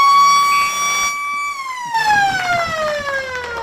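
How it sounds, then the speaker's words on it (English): An old air raid siren at a suburban football ground sounds one short, loud wail that holds steady, then slides downward as it winds down, with faint crowd noise underneath. "That old air raid siren, it's a thing of beauty out here at Balwyn Visy Park."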